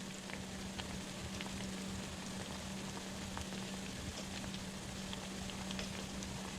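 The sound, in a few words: plantains frying in a pan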